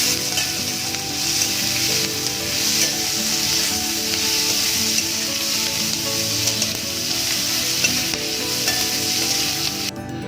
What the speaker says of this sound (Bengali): এবার এর মধ্যে দিয়ে দেবো আমি কাঁচা লঙ্কা, রসুন আর আদা। দিয়ে এটাকে আবার ফ্রাই করব।